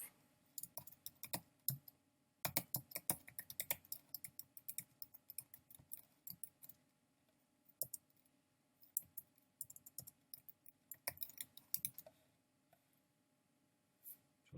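Quiet, close keyboard typing in irregular bursts of rapid clicks separated by short pauses, with no talking.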